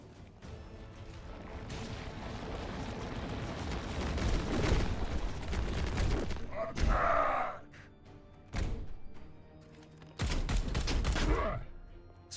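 Gunfire from the tactical video game Warhammer 40K Chaos Gate, with rolling bursts of heavy weapon fire and explosive thuds that come in clusters and then stop. Several loud separate blasts follow after short pauses, with some speech heard.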